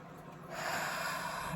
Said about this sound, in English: So I want you first to take a deep breath